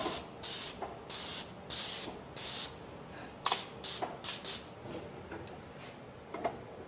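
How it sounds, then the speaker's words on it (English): A Graco 490 XT airless paint sprayer on high pressure lets out repeated sharp bursts of spray hiss, about eight short blasts in an uneven rhythm with quiet gaps between, close and loud with no talking. "I'm going to be spraying over what I just painted"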